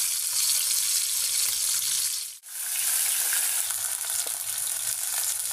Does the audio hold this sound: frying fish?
yes